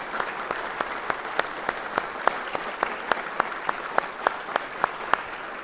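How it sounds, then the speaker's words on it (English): A small audience gives a round of applause for season sponsors at a McKnight Center season announcement; the clapping is sparse and evenly paced, with distinct individual claps sounding steadily throughout. "Please join me in a round of applause for these generous season sponsors."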